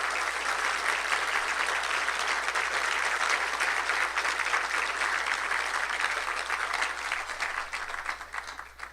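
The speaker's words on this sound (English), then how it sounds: "I'd like to honour Norman with a round of applause for his donation of the Norman Ramsay" Applause at an awards dinner honouring a donor's archive gift, an even wash of many hands clapping at moderate distance, sustained for nearly nine seconds before fading at the close.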